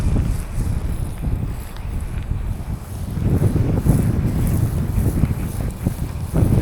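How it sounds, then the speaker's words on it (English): Wind blowing outdoors on a rooftop during roof cleaning, a continuous loud low rumble of gusts buffeting the microphone that swells midway, with no talking. "Wind is blowing me today."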